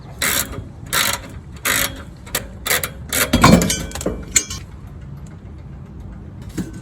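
A ratchet strap is worked loose at the driver's side rear of a 1986 Chevy S10 Blazer, giving several bursts of clicking pawl followed by a louder clunk and scattered clinks, all close by with no talk.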